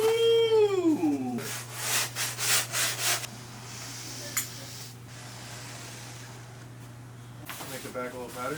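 The tail of a wooden skimboard is hand-sanded in a series of rapid rasping strokes, followed by a quieter stretch and another burst of rubbing near the end. A voice speaks at the start and a steady low hum runs throughout.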